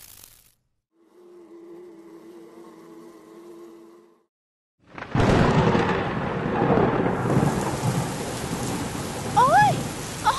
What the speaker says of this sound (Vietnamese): Ôi, ôi, mưa thật các bạn ơi.